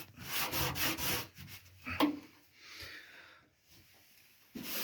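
Cloth rubs briefly against metal while spilled wax is wiped up inside the sills of a Ford Escort MK1 under restoration, a few close scuffing strokes followed by a sharp knock and quieter shuffling.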